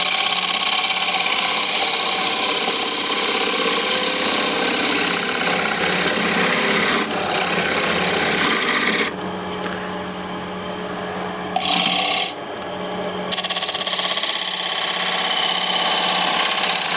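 A wooden bowl spins on a lathe while a turning tool takes a shear cut toward the center, giving a steady, loud whirring hum and scraping hiss that dips briefly mid-cut before resuming, with no talking.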